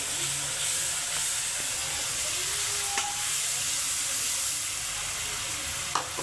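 A ground masala of dry coconut for chicken curry sizzles steadily in a hot pan, a constant crackling hiss with a few sharp clinks of a utensil against the pan.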